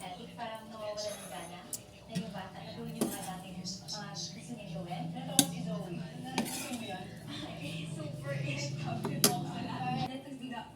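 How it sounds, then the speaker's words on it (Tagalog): Cooked adobo and sautéed vegetables with chicken liver and gizzards being transferred into a small bowl, with a utensil clinking and scraping against metal and ceramic in scattered taps, close by and under a talking voice. "Sasali natin siya sa maliit na mangkok."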